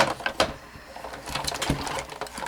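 Die-cutting machine cranking Stampin' Up shapes through with one layer too many, giving a faint run of clicking and grinding mechanical noises with irregular sharp ticks.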